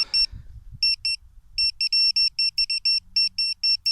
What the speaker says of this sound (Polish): Ładny sygnał z zakresu srebra na Optimie w tym dołeczku.